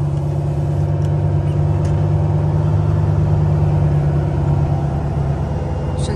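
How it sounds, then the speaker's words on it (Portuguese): A truck's engine brake gives a loud, continuous low drone with a steady throbbing hum, constant throughout with faint clicks over it. "Só o barulho do freio motor mesmo, né?"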